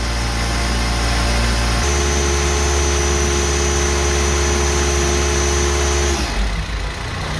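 A Zamboni 546 ice resurfacer's engine idles steadily to warm up, a constant low rumble whose pitch steps up after a couple of seconds, then drops as the engine settles near the end; no voices.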